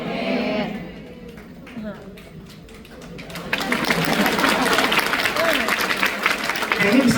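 A church congregation applauds: after someone speaks briefly, scattered claps swell into loud, dense, sustained clapping that fills the room and continues steadily to the end.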